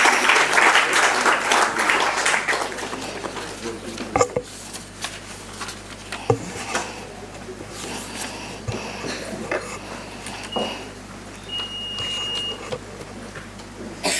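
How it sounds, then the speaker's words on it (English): A lecture-hall audience at a public endowment award lecture claps to welcome guests, the applause dense and loud at first, then thinning to scattered claps and faint room noise. "please give a round of applause"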